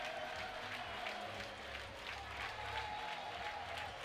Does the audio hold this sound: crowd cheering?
yes